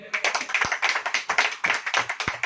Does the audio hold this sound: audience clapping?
yes